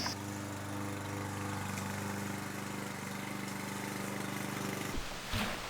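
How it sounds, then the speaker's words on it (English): A lawn mower engine drones close and steady while a yard is mowed, then cuts out sharply near the end, leaving brief rustling. "I'm going to beautify the yard and mow a little bit right over here."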